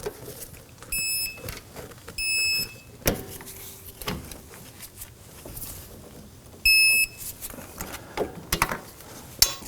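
Electronic torque wrench beeping as caliper bracket-to-knuckle bolts on a 2005-2009 Subaru Legacy rear brake reach set torque: three clear tonal beeps spaced apart, with light clicks and clanks of tool work between.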